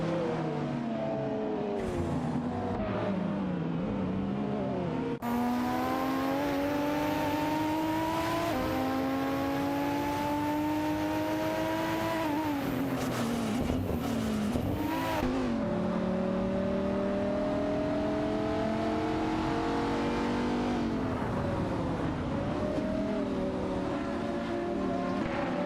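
Race car engines in a video game race, including an Aston Martin Vantage and a Ferrari Enzo, scream continuously with rising and falling revs through gear shifts and passing cars, loud and sustained.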